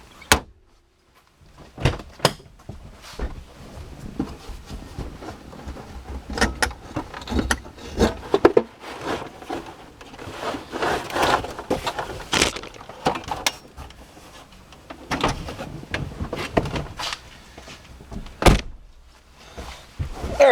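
A center console is wrenched out of a GMC Jimmy, S10 or Blazer truck cabin, heard as a series of close, sharp plastic cracks, thunks and rattles separated by short pauses.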